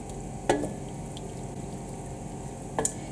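Stuffed courgettes simmering in a pan, a steady soft sizzle and bubble held for several seconds, with two brief clinks of a utensil, one near the start and one near the end.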